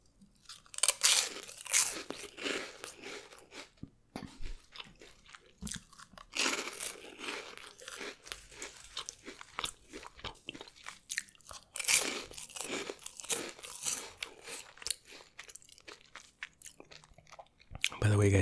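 Close-miked ASMR mukbang eating: crunchy food is bitten and chewed in loud, crisp bursts that repeat with short pauses, and talking falls between some of the bites.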